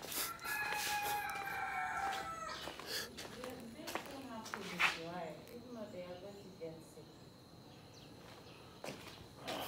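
A rooster crows near the start, followed by hens clucking and murmuring at close range, with a person speaking in between.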